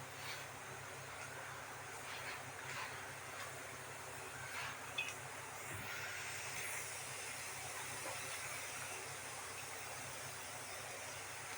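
A steady pressure cooker hiss runs throughout, with faint background noise and a soft low hum underneath.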